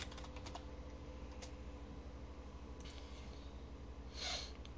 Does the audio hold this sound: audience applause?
no